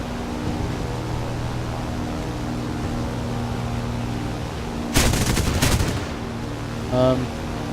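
Anti-aircraft fire in the flight game War Thunder, a short dense burst of rapid gunfire about a second long rising over a steady engine drone, followed by a brief softer thump.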